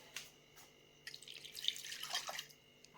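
Water poured to the brim over lightly salted tomatoes in a jar in a home kitchen: a few soft drips, then a quiet, close trickle and splash for about two seconds.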